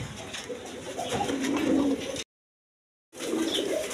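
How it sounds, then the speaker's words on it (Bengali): A pair of big, jet-black fancy pigeons coo in soft, low rolling calls, steady and close for about two seconds, then a brief silence before the cooing resumes. "দর্শকবৃন্দ এইখানে এক পেয়ার শৌখিন কবুতর আছে"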